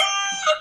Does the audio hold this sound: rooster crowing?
yes